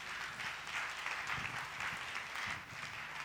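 A church congregation applauds during a Sunday service, steady massed hand clapping filling the room at a moderate distance for a few seconds without a break.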